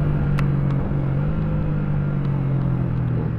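A Yamaha Sniper 155R motorcycle idling through its muffler, a deep, steady, full-bodied exhaust rumble heard close with no one speaking.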